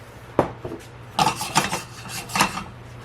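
A lid goes onto a pan of onions cooking with salt and pepper: one sharp clatter, then several scraping metallic knocks as it settles, close and moderately loud.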